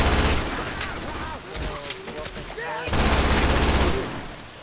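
Rapid bursts of automatic gunfire in a video game shooter, loud and close, clattering in dense volleys with a short lull in the middle, while players shout over the shooting.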